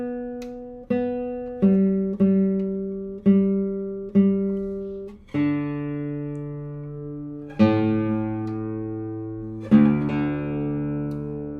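Single plucked guitar notes and pairs of strings ring out one after another, each left to sustain and decay, as the instrument is tuned string by string.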